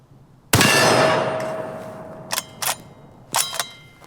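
A yellow steel gong target rings out with one sharp, loud clang after a 300 Win Mag rifle shot, its metallic tone fading slowly. Several shorter clanks follow near the end.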